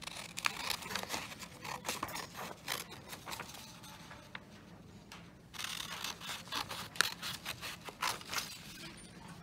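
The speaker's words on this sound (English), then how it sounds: "you're going to cut along the dotted lines" Scissors snip through paper along dotted lines in a classroom math activity, a run of close, crisp cuts and paper rustles in uneven bursts with a brief pause partway through, no talking.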